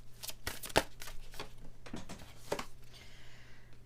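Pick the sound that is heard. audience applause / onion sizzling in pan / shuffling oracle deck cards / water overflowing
shuffling oracle deck cards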